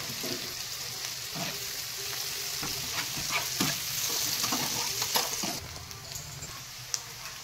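Onion and green chilli with a pinch of salt and turmeric sizzle steadily in a pan, with scrapes and stirs from a spoon now and then.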